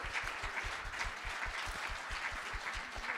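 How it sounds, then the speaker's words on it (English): An audience claps for a panel at a conference event, a dense, steady patter of many hands close by, even in level throughout with no voices over it. "Give a round of applause to our panel, everybody."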